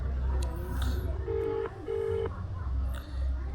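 Telephone ringback tones sound while a phone call is being placed, two steady buzzing tones of about half a second each over a background of low noise and faint voices.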